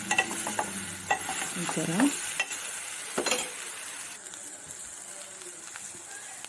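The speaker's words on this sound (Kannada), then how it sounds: "ನಾನು ಸ್ಪೂನಿಂದ ಮೆಲ್ಲಿಗೆ ತಿರುಗಿ ಹಾಕ್ತಾಯಿದ್ದೀನಿ" A spoon slowly stirring brinjal (eggplant) pieces frying in a pan, giving a steady sizzle with soft scraping and clinking strokes, close up. A voice speaks briefly.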